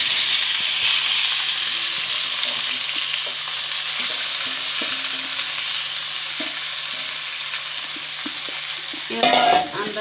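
Chopped taro with a spoonful of turmeric fries in hot oil in a pan, a constant close sizzle with soft scraping stirs scattered through it and a louder clatter of the utensil near the end.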